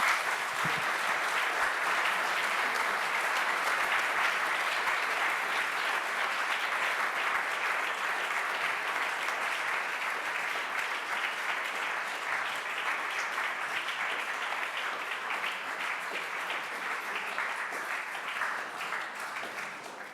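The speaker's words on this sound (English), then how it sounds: "je propose d'applaudir très fort nos 2 lauréats" Sustained applause from a large audience at an award ceremony for two prize winners, a dense, even wash of clapping that holds steady for about twenty seconds and tapers slightly at the end.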